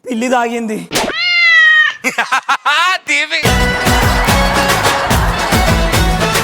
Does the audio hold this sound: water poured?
no